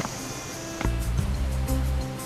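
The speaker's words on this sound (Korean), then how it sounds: "폭포 소리가 벌써 여기서부터 들려요." A jungle waterfall on Lombok gives a steady broad rushing roar, heard from a distance, with a few low knocks and handling sounds near the recording.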